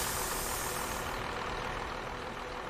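A bus engine idles steadily in the driving game OMSI 2, a dense continuous rumble with broad noisy texture that stays even and loud throughout, with no voices.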